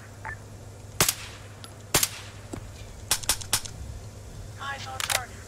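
Rifle shots ring out in Arma 3, several sharp distinct cracks spaced a second or so apart over a steady low engine-like hum, with faint radio voices around them.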